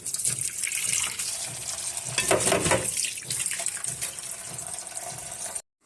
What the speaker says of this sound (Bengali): আর ধনিয়া পাতা ধুয়ে নিই